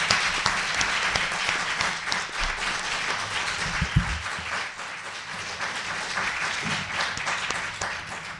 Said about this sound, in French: je demande à la salle d'applaudir